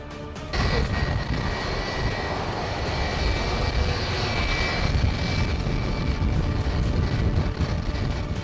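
An airliner touches down near the edge of a runway with a sudden, sustained roar of engines and rushing noise that stays loud and steady throughout.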